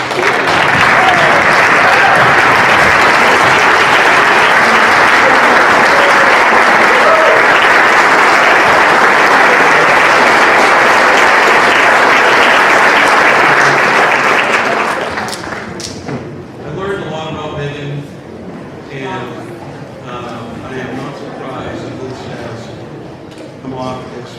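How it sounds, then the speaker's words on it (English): Loud, dense applause from a banquet audience at a Hall of Fame dinner, sustained for about fifteen seconds before dropping away to scattered claps and voices talking in the room. "I would like everyone to stand and give a round of applause to Megan."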